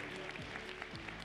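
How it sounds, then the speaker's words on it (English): Steady applause from a conference audience at a global finals event, a dense wash of clapping hands continuing evenly throughout without pause. "Once again, another round of applause for them"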